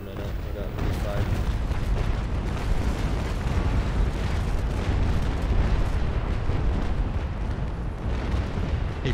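Cannon fire from sailing warships in the naval combat game Naval Action, a dense, continuous rumble of booms filling the whole stretch at steady loudness, with voices talking over it.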